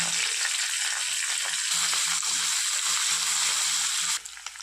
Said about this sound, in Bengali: গরম তেলে দিয়ে দিলাম একটুখানি ঘি, 2টো তেজপাতা আর আদা বাটা